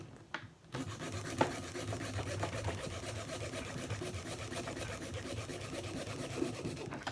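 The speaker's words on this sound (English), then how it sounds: "And a little hacksaw." A small hacksaw cuts a metal body mount for a Marui Bear RC truck, the part resting on an old brick. Close, steady rasping strokes run continuously with no talking.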